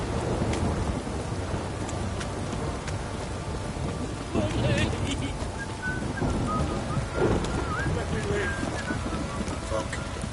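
Steady rain falls in The Witcher 3: Wild Hunt as a constant dense hiss with low rumbling, loud and continuous for the whole stretch, with a voice briefly present.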